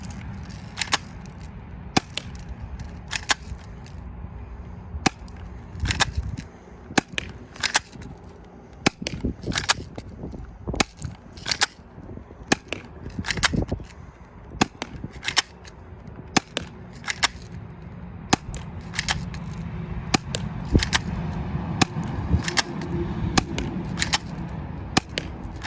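Walther PPQ airsoft spring pistol firing 0.12 gram BBs: a long run of sharp, close snapping shots, single and in quick bursts at irregular spacing, over low background rumble.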